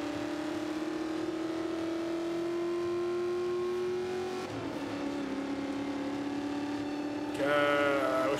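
A muscle car engine in Forza Motorsport 5 drones steadily as it climbs in pitch, then drops after a gear change and revs up again near the end, loud and continuous with no talk.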